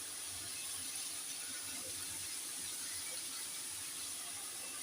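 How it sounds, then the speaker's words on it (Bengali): Potatoes fry in a pan with a faint, even hiss of sizzling oil, steady and quiet throughout with no talk. "আলু ভাজা চলছে।"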